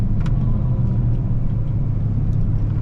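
A teal OBS crew cab Ford pickup truck with a 460 engine rolls past, a steady loud low rumble of the big V8 filling the whole moment without any talking.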